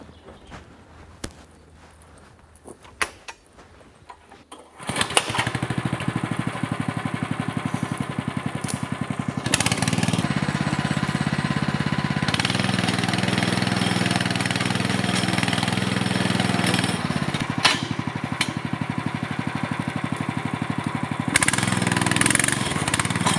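Engine of an Iron Horse log winch starts up and runs steadily at a loud, constant idle from about five seconds on, with a quiet stretch before it and a few brief knocks.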